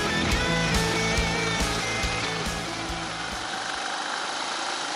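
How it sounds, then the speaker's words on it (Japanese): Air-cooled single-cylinder engine of a Suzuki Djebel 200 motorcycle on a forest trail, a steady close thumping idle-like drone with rhythmic pulses that drops away toward the end. "空冷単発の音がよく聞こえます。"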